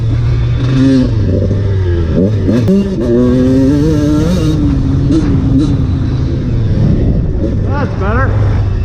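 A 1990 Honda CR125 two-stroke dirt bike revs and shifts while being ridden on a track, its buzzy engine rising and falling in pitch with each throttle blip, close and loud throughout with a voice speaking over it.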